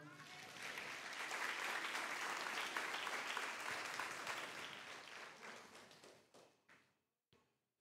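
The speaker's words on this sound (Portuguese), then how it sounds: "Você pode aplaudir o Senhor?" A church congregation claps for the Lord in a long, dense burst of applause that holds steady for several seconds, then thins into a few scattered claps and knocks before falling silent.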